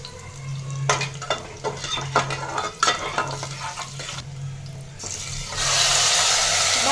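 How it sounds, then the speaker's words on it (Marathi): Cumin seeds and garlic frying in hot oil with a sizzle, interrupted by a series of sharp stirring scrapes and clinks against the pan, then a louder, steadier sizzle near the end. "तेलामध्ये जिरी टाकून घेत आहे तळले का त्यामध्ये लसूण टाकून घेत आहे"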